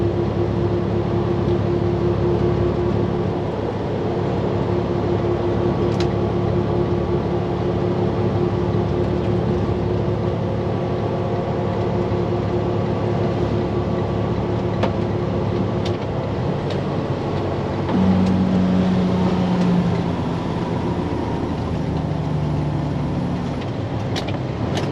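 Inside a local truck driver's truck cab, the engine drones loudly and continuously with a steady low rumble, shifting pitch briefly near the end as the driver downshifts without the clutch.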